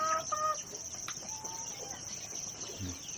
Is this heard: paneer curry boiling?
no